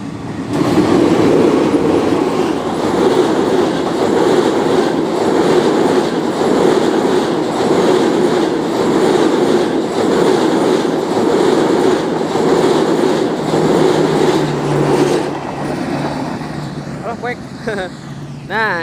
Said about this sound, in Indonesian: Kereta api Malabar sebentar lagi melintas.